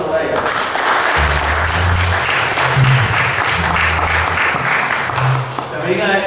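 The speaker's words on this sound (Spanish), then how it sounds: "Vamos a dar un aplauso a Brian." A church congregation at a Spanish-language Mass breaks into sustained applause filling the room for several seconds, with voices audible over the clapping near the end.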